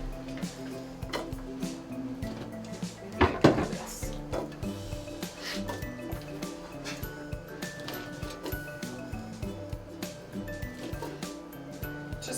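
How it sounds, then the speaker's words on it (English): Cut potato pieces tossed into a pan in a home kitchen, a run of light knocks and taps with one louder clatter early on, close by and without talk. "Alright, so we've cut up some potatoes and I'm just gonna put them in the pan."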